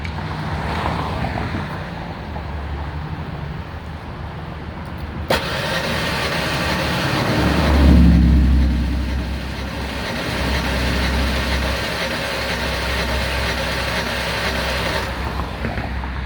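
A 1996 Ford Ranger 3.0L engine turns over on the starter during a compression test, a steady sustained cranking drone lasting most of the stretch, loud and close, with a brief surge partway through and no talking.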